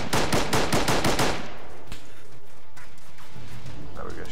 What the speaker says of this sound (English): Shot from the left again.